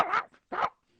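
A human voice imitates a little yappy dog, giving two short, close bark-like yips in quick succession.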